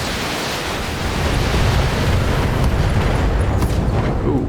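An autocannon ammunition explosion in the BattleTech video game, a loud, sustained roaring blast of dense noise that swells after the first second and rumbles on to the end, with no voices heard.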